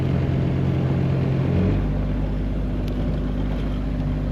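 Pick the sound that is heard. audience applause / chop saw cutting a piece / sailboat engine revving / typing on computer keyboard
sailboat engine revving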